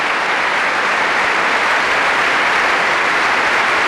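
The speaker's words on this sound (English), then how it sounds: "the applause is going on for the BBC Symphony Orchestra and Andrew Davis after this very heartwarming concert" Concert hall applause for the BBC Symphony Orchestra and conductor Andrew Davis in the Royal Albert Hall, a loud, dense, unbroken roar of clapping from a large audience filling the full few seconds.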